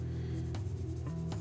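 A pencil moving across paper while a figure in a jumping pose is sketched, giving close, soft scratchy strokes with a few brief sharper scrapes, heard alone over a steady low background.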